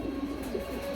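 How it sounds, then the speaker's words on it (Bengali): A pair of silver-bloodline pigeons at a pigeon market coo softly in a brief, faint, low murmur. "এই যে একজোড়া কবুতর ভাই"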